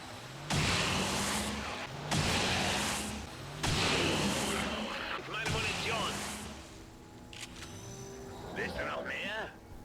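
A ranger fires in the video game XCOM 2, a series of about four heavy booming shots spaced roughly 1.5 seconds apart, each ringing out briefly, followed by whooshing effects as a commentator talks throughout.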